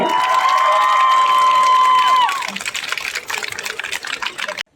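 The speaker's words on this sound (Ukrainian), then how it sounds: "Ну, аплодисменти, діжок!" Applause and cheering from a graduation crowd, loud and dense, with a sustained tonal whistle or horn over it early on, then thinning into scattered clapping and voices before cutting off.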